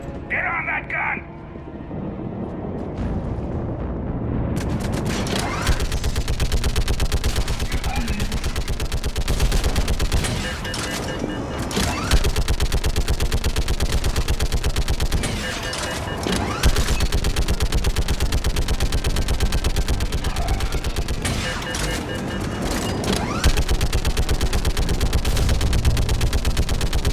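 Sustained rapid gunfire from a mounted gun in Mass Effect 3, loud and continuous after a brief quieter opening, with dense bursts and heavy impacts throughout and voices shouting in the mix.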